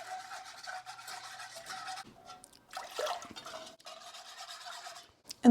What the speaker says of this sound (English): and then just slowly whisk in 3 cups of water